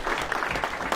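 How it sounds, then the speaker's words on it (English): Applause from a group for a football team after a dominant win, filling a short burst with dense, steady clapping and no talk. "Give yourself a round of applause."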